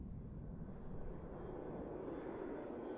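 Airplane engine roaring steadily during takeoff in Mini Airways, a low, even rumble at moderate volume that stays constant with no voices.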